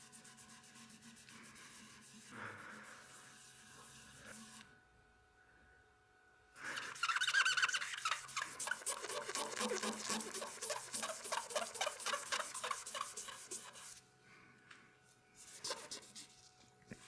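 Hand sanding a cyanoacrylate finish on a turned wooden piece: close, steady raspy rubbing strokes in two long bursts separated by a brief pause, with no talk.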